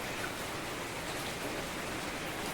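Steady rain falling, a continuous even wash of hiss without breaks, moderately quiet and with no speech.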